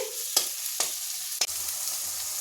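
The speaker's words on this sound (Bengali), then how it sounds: "তো পোস্তটা আমার এখানে ভাজা ভাজা হয়ে গেছে।" Poppy seed paste frying in a pan for a rui fish dish, with a constant hiss broken by three sharp scraping strokes of a spatula.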